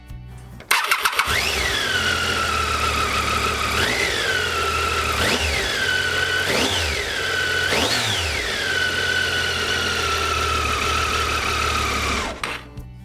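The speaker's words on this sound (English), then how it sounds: "We were now stuck in traffic on our way to Cocora Valley." Vehicle engines idling and revving in heavy traffic on the single road up to Cocora Valley, Colombia, with a motor rising in pitch again and again over a steady close engine drone.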